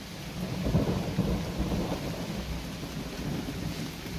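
Steady rain falls around a cabin with a vine-covered awning, with a low rumble of thunder beneath the continuous patter, moderately loud and unbroken.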